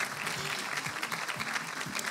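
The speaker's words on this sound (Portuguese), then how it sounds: "um enorme salva de palmas para as restantes finalistas" Applause from the audience at the Miss Teen Portugal 2020 and Mrs Portugal 2020 final gala, a dense, even clapping heard at a moderate distance, with a faint voice underneath.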